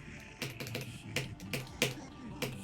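Keys on a rapid-trigger computer keyboard are pressed in quick, uneven bursts during gameplay, giving close, crisp clacks with short pauses between clusters.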